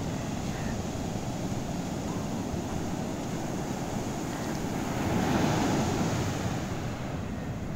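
Ocean waves wash onto a South Goa beach as a steady roar of surf, swelling slightly midway and mixed with wind noise on the microphone.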